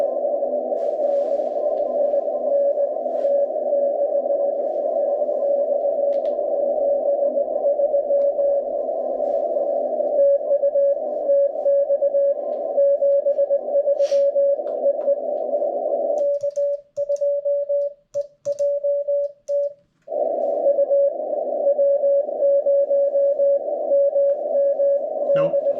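A Morse code CW signal from a hunter station on ham radio keys steadily as a continuous tone, then breaks into short choppy dots and dashes, faint and fading in and out under a hiss of band noise.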